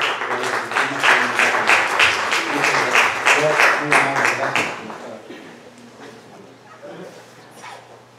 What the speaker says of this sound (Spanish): Démosle un fuerte aplauso a la doctora Flor Ávila